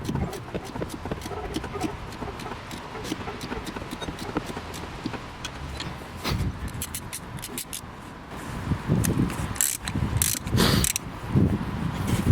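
A wrench turns on the rear brake of a Renault Megane 2 during a pad and rotor change, giving steady close-up ratcheting and metallic working noise that grows busier and louder toward the end.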